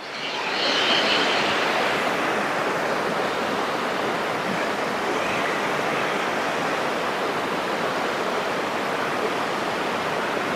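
A waterfall roars in a broad, even rush of falling water, loud and close, steady from start to finish with no voices over it.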